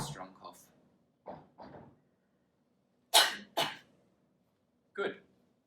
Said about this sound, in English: take one big deep breath and have a nice strong cough